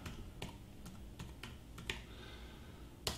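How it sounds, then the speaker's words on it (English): Keys clack on a computer keyboard in short, irregular bursts of typing, with a few louder isolated strikes, close up against a quiet room background. "So you just type in Bob Smith"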